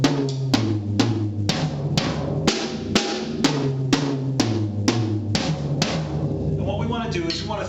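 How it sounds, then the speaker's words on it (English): Drum kit played in steady even strokes, pairs of hits moving across the drums, loud and close, with a voice briefly at the end. "what we can do is just put 2 beats on each drum."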